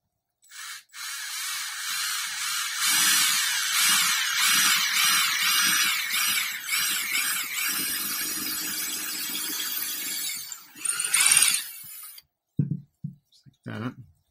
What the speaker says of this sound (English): And then I'm going to drill a hole in the arm here.